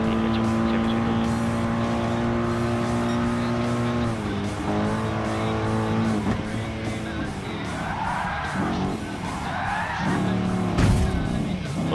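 Race cars skidding and engines revving in the video game Gran Turismo Sport, loud continuous motor drone with shifting pitch and repeated tire squeals toward the end.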